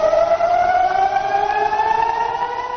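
Air-raid sirens wail across northern Israel during a rocket alert from the Lebanese border, a loud steady rising tone with layered harmonics that holds throughout without any talk.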